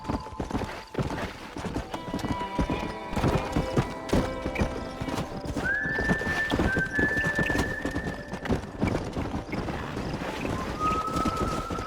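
A horse gallops in Red Dead Redemption on PC, its rapid hoofbeats drumming steadily and close, while drawn-out whinnies and neighs rise over the pounding twice in the second half, with faint wind in the background.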